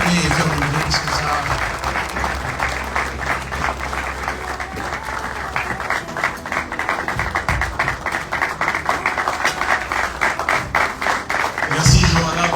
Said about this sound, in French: Est-ce qu'on peut acclamer et faire du bruit comme ça?